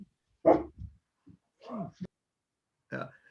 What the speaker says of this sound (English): That's not my dog.